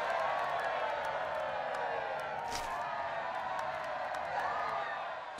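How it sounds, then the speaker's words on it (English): A crowd of townspeople in the video game Fable III cheers and murmurs continuously, a dense, fairly loud wash of many voices with scattered whoops, sustained throughout. "They're cheering."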